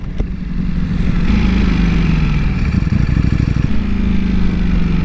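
Ducati Panigale V4 SP sportbike with a dry clutch, ridden close up: a loud, steady engine drone with a rising rev and gear changes, continuous and without talk.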